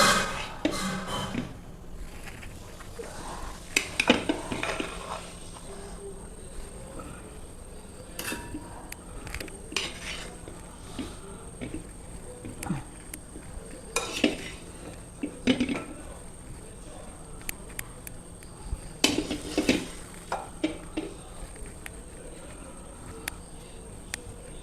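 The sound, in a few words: crushed tapioca added to meat in pot, stirred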